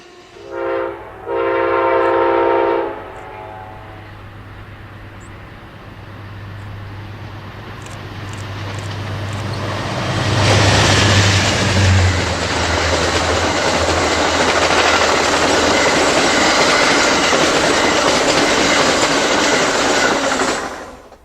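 An Amtrak Coast Starlight passenger train in Oregon sounds two loud horn blasts near the start, then its rumble and wheel clatter build and stay loud as it passes.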